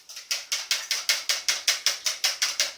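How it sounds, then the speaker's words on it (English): A fork beats eggs in a bowl with quick, regular clicking taps, about five per second, close and crisp, with no voices. "Then you beat your eggs."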